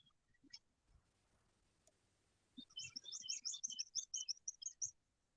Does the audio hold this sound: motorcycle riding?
no